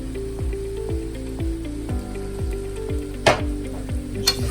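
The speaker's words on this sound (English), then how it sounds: "I fold my noodles around and I give it a shake" Pad thai noodles sizzle and fry in a hot pan as they are folded and shaken, a steady crackle with regular scraping pulses and a couple of sharper clatters.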